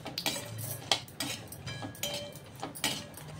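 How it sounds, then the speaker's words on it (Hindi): Grated dried coconut (khopra) is stirred and roasted in a pan, with soft scraping and light clinks of a spoon against the metal coming in irregular strokes, close and fairly quiet. "खोपरे को भी भून लेती हूँ,"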